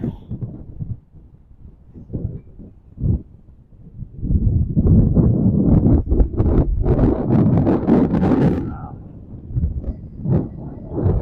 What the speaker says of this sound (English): Wow, it's really windy, guys.